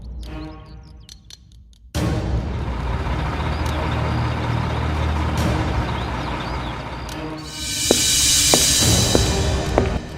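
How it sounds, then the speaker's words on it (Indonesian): A tow truck pulls in with a loud, steady engine rumble after a quiet start, a few clicks and a sharp hiss of air brakes releasing near the end. "Ini truk derek buat ambil mobil yang belum dibayar."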